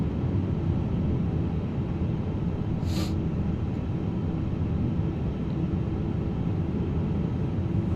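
An iniBuilds A350 airliner taxis in Microsoft Flight Simulator 2024, giving a steady, dense engine rumble and hum that holds level throughout with a brief higher whine near the middle.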